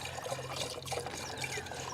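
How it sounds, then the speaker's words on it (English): Water pours steadily into the coolant reservoir of an older Range Rover with a heater fault, a close, continuous trickling fill with no talk. "Well, I filled it up with water"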